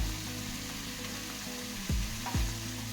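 Tomatoes sauté in a pan for a jackfruit seed gravy, producing a continuous close sizzle with a couple of brief clanks of a stirring spoon near the end.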